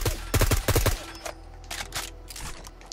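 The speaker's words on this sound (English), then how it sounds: "Yeah, it's a 3-burst fire." Three-round bursts from a Halo rifle mod in Fallout 4: two quick bursts of three sharp, loud shots each, followed by a fainter tail of scattered lighter clicks and impacts.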